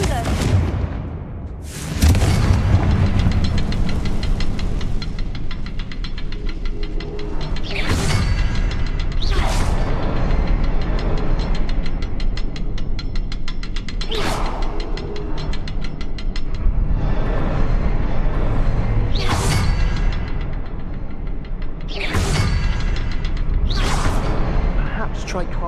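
In a Harry Potter video game, the Confringo blasting spell sets off a string of loud booming explosions at irregular intervals over a dense, continuous background of game noise.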